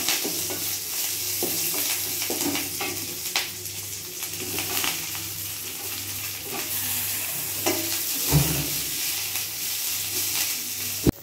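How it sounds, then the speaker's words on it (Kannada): Onions frying in a pan for peanut chutney, a steady close sizzle with repeated stirring scrapes and clatter running throughout, no voices. "ಇವಾಗ ಆನಿಯನ್ ಚೆನ್ನಾಗಿ ಹುರ್ಕೊಂಡ್ಬಿಟ್ಟಿದೆ"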